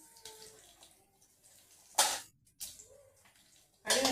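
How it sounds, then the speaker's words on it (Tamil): Mustard seeds spluttering in hot oil, sharp crackling pops in separated bursts over a low steady sizzle, close and fairly loud, with no talking. "கடுகு நல்லா பொரியட்டும்."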